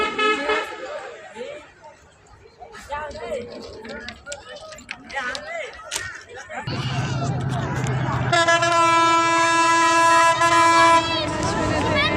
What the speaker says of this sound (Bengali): ট্রেনটা আসার অপেক্ষায় আছি এখন।